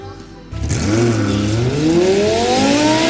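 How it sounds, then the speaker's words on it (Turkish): A toy car's engine noise revs up with rising and falling whine, continuous and fairly loud, close by. "Araban kızgın bir ses çıkartıyor"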